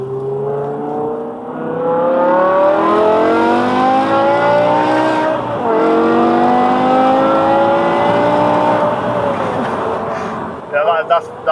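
A modified 550 bhp BMW E60 M5 with its V10 engine accelerates hard, a loud, smooth rising howl that climbs through the revs, dips briefly at a shift, then climbs again before easing off.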